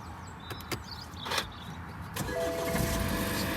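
A BMW F30 3 Series with keyless start fires up after a few clicks and whirs, the engine catching and settling into a steady idle, heard nearby without talk.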